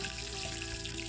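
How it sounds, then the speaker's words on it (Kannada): Peanuts deep frying in hot oil give a steady, dense sizzle and crackle, close and continuous with no voices. "ಚಟಪಟ ಅಂತ ಸೌಂಡ್ ಬಂದಾದಮೇಲೆ ಇದಕ್ಕೆ ನಾವು ಶೇಂಗಾ, ಇದನ್ನು ನೀಟಾಗಿ ಫ್ರೈ ಮಾಡ್ಕೋಬೇಕು"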